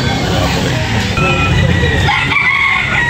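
Roosters crowing amid a busy chicken market, several overlapping crows and clucks close by over a dense crowd murmur, with people talking throughout.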